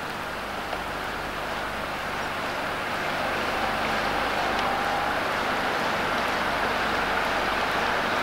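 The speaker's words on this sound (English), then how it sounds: "the rain is still raining very, very hard" Heavy rain pours steadily during a flood at Denford beside a bridge where the water has nearly reached the top, a dense continuous hiss with no break, filling the scene evenly from start to finish.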